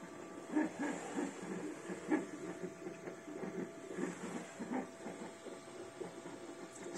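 A Flashforge Finder 3D printer runs at close range, its stepper motors whirring in a steady mechanical hum broken by short rhythmic pulses, with no talking.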